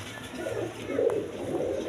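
Pet pigeons offered for sale at a market coo softly in a low, murmuring swell that peaks near the middle, with faint background noise and no voices.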